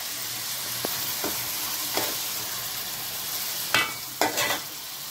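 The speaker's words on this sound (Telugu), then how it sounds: "టమాటాలు కూడా వేసుకొని చక్కగా ఒకసారి మొత్తం అన్నీ కలుపుకొని" Tomatoes and onions being stirred in a frying pan for an egg curry, a soft steady sizzle with a few scraping spoon strokes, two sharper clatters near the end, no voices.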